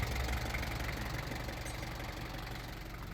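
A 4x4 vehicle's diesel engine idling nearby, a steady low rumble with a faint knocking pulse that holds constant throughout.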